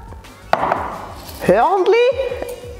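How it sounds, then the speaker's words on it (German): Knife chopping cervelat sausage and onions on a board, a few distinct sharp chops and taps close by, mixed with clinks and a voice talking over parts of it. "Einfach Cervelat geschnitten, also zuerst geschnitten und geschnitten."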